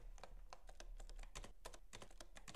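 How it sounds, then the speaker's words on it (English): Quick, fairly even keystrokes on a computer keyboard as a prompt is typed, a run of light clicks close by with no talking. "I'm going to go ahead and type in my prompt related to that image"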